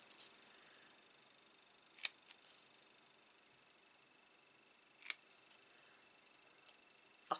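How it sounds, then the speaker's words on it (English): Two crisp, isolated snips of small scissors cutting paper a few seconds apart, with faint ticking and a soft click near the end, in a quiet room. "Now I got my little scissors and I just cut the smallest pennant."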